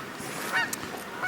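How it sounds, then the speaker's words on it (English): Geese honk as they fly in to a lake for the evening, a few fairly faint calls over a steady wash of outdoor background noise. "here we have the geese coming in for the evening. Boy, they sure are noisy."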